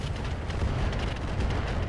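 Mech weapons in the video game RogueTech fire and strike a target in a dense barrage of rumbling explosive booms and impacts, loud and continuous with no talk.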